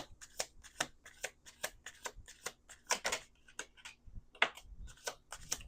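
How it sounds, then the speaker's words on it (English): Tarot cards being shuffled in quick repeated riffles and taps, a dense run of crisp papery bursts, close and fairly quiet, with no talking. "We're going to do 2 more shuffles."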